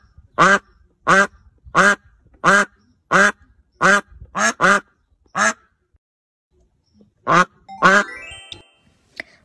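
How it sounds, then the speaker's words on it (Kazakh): A duck quacks loudly and close by in a steady run of about ten evenly spaced calls, falls silent briefly, then lets out two more quacks. "Бұл үйрек."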